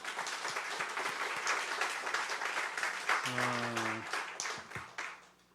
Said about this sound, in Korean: 모든 영광의 박수를 하나님께 한번 드리십시다